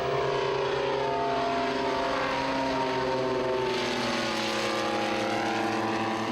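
A propeller airplane engine drones steadily and loudly, a deep throbbing hum with a rough mechanical edge that holds without pause, no voices.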